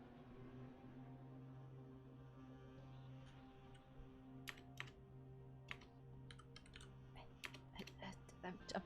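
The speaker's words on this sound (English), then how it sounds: "So much typing." Computer keyboard typing during an online game tournament lobby, faint scattered key clicks building into quicker bursts over a steady low hum of game or background noise, no talk.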